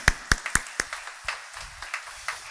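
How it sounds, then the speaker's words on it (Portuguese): Church congregation clapping during a Portuguese-language service, a handful of loud, distinct claps close by that thin out into softer, sparse clapping. "Uma salva de palmas."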